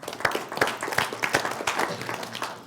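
Applause from an audience at a Limitless Tribe Night gathering, a steady patter of many hands clapping at close range with no voices over it.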